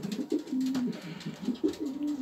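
Pigeons in a racing-pigeon loft give low, rolling coos, several overlapping calls repeating close by in a quiet room.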